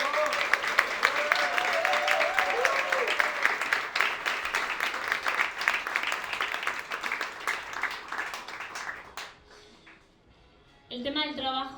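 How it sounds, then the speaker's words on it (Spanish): A seated audience at a book launch applauds in a warm, sustained round of clapping for about nine seconds, then it fades out and a voice begins speaking. "Les pido un aplauso."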